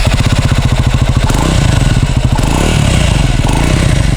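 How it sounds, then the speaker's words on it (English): Exhaust note of a Triumph Scrambler 400X motorcycle with twin pipes, a loud, close, steady idle throb with quick blips of the throttle, heard alone. "now let's hear the exhaust note of this pretty bike"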